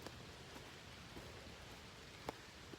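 Rain falling outdoors during a walk, a faint, steady hiss with scattered soft drops and a couple of brief, sharper taps standing out, with no voices.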